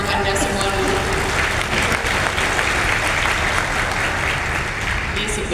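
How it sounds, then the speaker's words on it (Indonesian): An audience at a university faculty graduation ceremony in Indonesia applauds the graduates, with loud, dense, sustained clapping filling the hall and crowd noise and voices mixed in throughout. "Saya mau tepuk tangan untuk Anda semua dulu."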